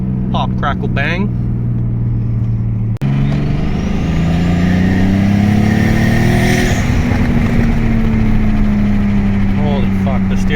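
A BMW E36 M3 in a drift video game revs hard and steadily, with scattered exhaust pops and crackles sputtering over a loud, continuous engine note that rises in pitch through the middle of the run.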